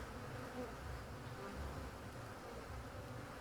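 Dense, steady buzzing of many honeybees as three swarms from separate hive boxes are merged into one colony, a continuous close hum that holds evenly throughout with no voices.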